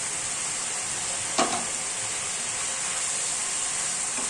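Tangra fish and cauliflower curry simmering in a pan gives a steady, close hiss of sizzling throughout, with one brief knock or clatter partway through and no voices.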